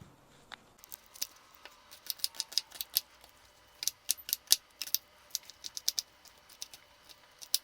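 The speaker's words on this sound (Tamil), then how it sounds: "இப்போது பூரி மசாலுக்கு வெங்காயம் கட் பண்ணுறோம்." A knife chops onions on a board for poori masala, giving quick, irregular sharp taps, some in brief bursts, at a moderate close level with no talking.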